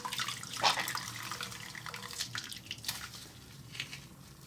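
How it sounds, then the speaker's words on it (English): A Rolex watch is rinsed in water, with running and splashing water sounds that are loudest early on and then settle into a softer trickle. "rinse the watch once here"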